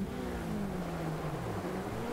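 The Peugeot 205 rallycross car's engine in DiRT Rally 2.0 drones briefly, with a steady engine note that dips slightly in pitch across the short burst.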